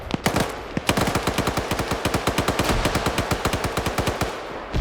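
Rapid automatic gunfire in a competitive video game match: dense, loud bursts of evenly spaced shots rattle almost continuously, with brief gaps near the start and end.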